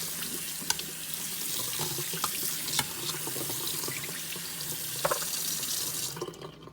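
Soaked potatoes being rinsed in a bowl under a running kitchen faucet, a steady, close hiss and splash of water that cuts off near the end.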